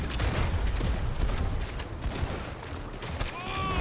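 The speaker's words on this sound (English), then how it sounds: "don't be afraid to use your shotgun when you need to" Shotgun and other gunfire in the video game Call to Arms: a dense, continuous clatter of shots and booms that stays loud and close throughout, with no talking.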